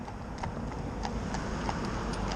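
Heavy horse's hooves clip-clopping on a public road, a regular series of sharp knocks at a walking pace over steady outdoor background noise, fairly close with no talking.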